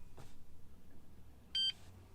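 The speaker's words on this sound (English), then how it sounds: "Easy installer will beep." Honda key programming installer emitting a short electronic beep during spare key setup, one clear tone near the end in a quiet room, preceded by a faint click.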